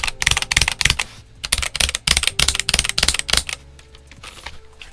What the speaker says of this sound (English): You can hear the ping and you can hear the clack from the switch as well as the thinner caps.